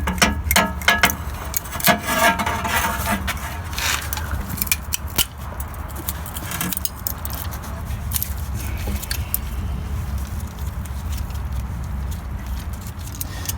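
Grips work a pressure gauge loose from the propane regulator on an asphalt hotbox, with close, irregular metallic clicks, scrapes and ratcheting clatter sounding throughout.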